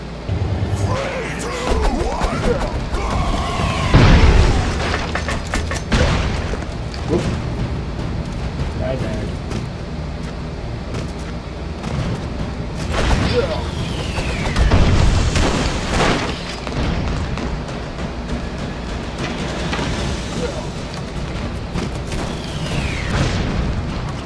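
Booming explosions from airstrikes in the side-scrolling action game Broforce, several heavy blasts around 4 and 15 seconds amid constant game noise and clatter, with a player talking over parts of it.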